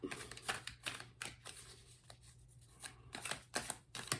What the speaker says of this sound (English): I'm gonna keep shuffling because that wasn't it